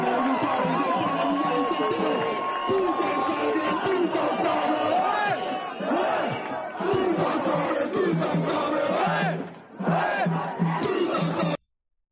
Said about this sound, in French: La foule est immense à Saint-Étienne